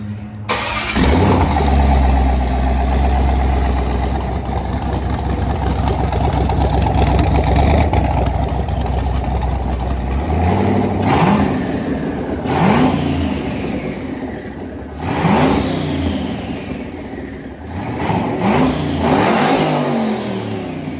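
A Chevrolet Tahoe's twin-turbocharged engine idles roughly, then revs hard several times in sharp bursts with turbo whooshes between them, close by.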